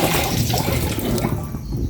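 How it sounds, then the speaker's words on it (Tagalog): Water pours steadily into a cooking pot on a home stove, a continuous splashing gush with a bright hiss that thins out toward the end, close and fairly loud. "Lagay naman po tayo ng tubig"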